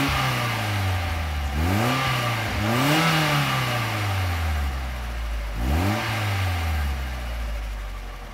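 A Mazda Miata NB fitted with a Racing Beat dual-tip exhaust blips its throttle from a steady idle, rising in three sharp, throaty revs that each fall back smoothly, loud and close with no talking.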